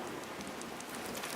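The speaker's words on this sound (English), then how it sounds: "It falls onto the Amazon with the rain." Steady rain pours down over the Amazon rainforest, a dense, even hiss of drops on foliage that continues without a break and without voices.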